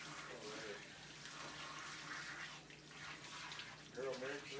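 Water runs steadily from a tap while a dog is bathed at a grooming salon, a continuous close hiss with faint voices talking underneath.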